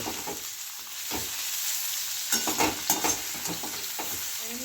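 Red and green capsicum stir-fry in a hot pan for chicken chow mein, giving a steady, fairly loud sizzle broken by repeated scrapes and tosses of the spatula.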